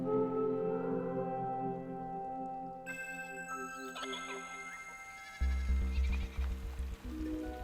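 Sheep bleat in a meadow in the video game Superbrothers: Sword & Sworcery EP, several wavering calls over sustained tonal music, with chiming notes and a deeper pulsing rhythm joining partway through.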